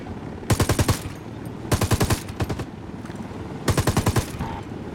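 Automatic gunfire in the video game Ghost Recon Wildlands comes in three rapid bursts of about five shots each, loud and close over a steady background of game ambience.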